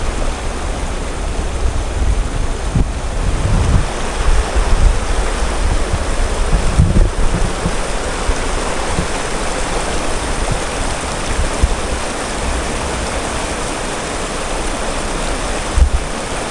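Steady rushing of the St. Vrain River flowing through a Colorado mountain canyon near Boulder, a continuous broadband wash of water heard up close with no voices.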